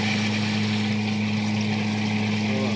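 A washing machine motor drones loudly without pause, with a strong low hum and a constant rushing whir.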